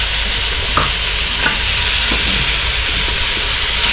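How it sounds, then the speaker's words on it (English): Pieces of goat meat for an Indian-style goat curry are dropped into a hot pot and sizzle loudly and steadily throughout, with a few soft clunks as the pieces land. "Listen to that sizzle."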